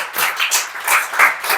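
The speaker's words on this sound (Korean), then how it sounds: "큰 박수 부탁드리겠습니다" An audience claps at a church gathering, a dense, steady burst of applause heard up close for a brief moment with no talk over it.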